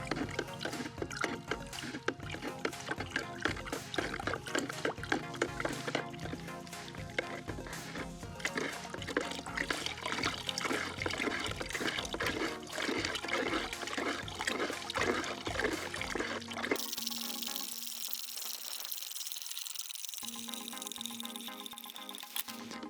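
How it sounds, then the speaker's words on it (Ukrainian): Copper sulfate solution trickles in a thin, steady stream into lime while being stirred, a continuous wet pouring sound that runs loud and close, then changes character and thins out near the end, with no talking. "Просто вливати його сюди не можна, тому що зразу вапно буде братися комками, а нам потрібно помішувати і вливати його сюди тоненькою струйкою."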